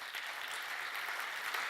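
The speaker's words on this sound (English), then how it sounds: "Round of applause." An audience claps at the close of an insurance startup pitch, a steady wash of applause at moderate distance with no voices over it.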